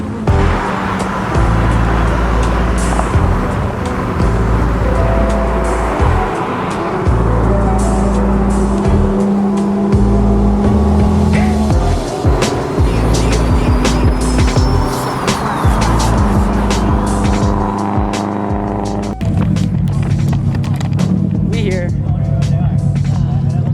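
Car driving in city traffic in Seattle, with a constant loud engine and road rumble from inside the vehicle and people talking over it throughout.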